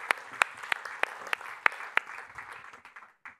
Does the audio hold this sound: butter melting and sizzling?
no